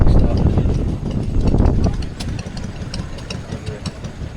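An old Dexter tractor engine at a heritage transport show runs close by with a rough, uneven chug that eases into a steadier idle, while people talk over it.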